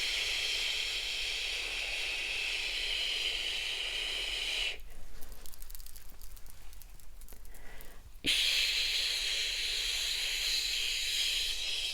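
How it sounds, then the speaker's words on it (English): Hairspray hissing onto hair rollers in two long steady bursts, close and soft, separated by a few seconds of quiet rustling, with no talk. "I'm going to pop some hairspray in the rollers"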